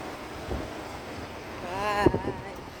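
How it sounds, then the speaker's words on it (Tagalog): Steady wind gusting and buffeting outdoors, a low rushing rumble across the whole moment with a faint tonal whistle near the end, fairly quiet. "Medyo mahangin."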